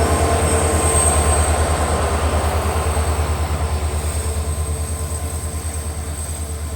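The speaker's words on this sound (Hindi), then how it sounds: "डीजल लोकोमोटिव का साउंड भी थोड़ा आपको सुना दूंगा मैं।" A WDG 4D diesel locomotive hauling the Bandra Ajmer special runs close and steady, its engine throbbing deep and rhythmic under a constant rumble, fading slightly over several seconds.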